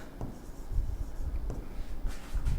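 Pen scratching out an answer during a Class 8 mensuration math lesson, a faint close rustle of short strokes and taps moving across paper, with no voice over it.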